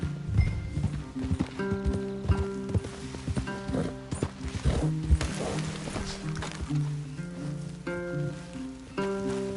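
Horse hooves clip-clop at a walking pace over uneven ground, several animals moving together, with occasional soft mechanical clanks, from the video game Red Dead Redemption 2.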